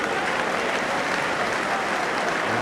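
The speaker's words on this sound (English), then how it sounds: "a small crowd here at Swansea, but they were appreciative of Lund's attempt to drive a shot on target" A small football crowd at Swansea applauds a shot attempt in Wales v Norway, steady clapping from many hands throughout, no voices over it.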